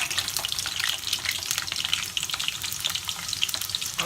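Palm oil heats in a pot for Nigerian beans, giving a continuous bright, crackling sizzle that stays steady and close throughout, with no talking.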